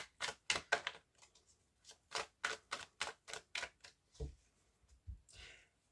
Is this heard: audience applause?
no